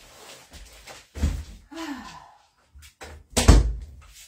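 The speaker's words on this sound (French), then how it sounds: "je fais sortir mon chien qui me gratte à la porte" Door opened to let a dog out: a few dull thunks and a clear knock-like impact near the end, with breathy sighs in between and no speech.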